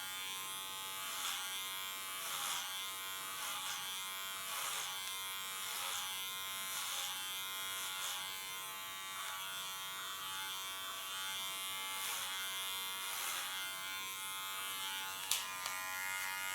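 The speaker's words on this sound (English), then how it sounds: "Even the clipper has to work on it." Electric hair clipper working through thick hair, a steady close buzz with a slightly pulsing drone that holds throughout, no talking.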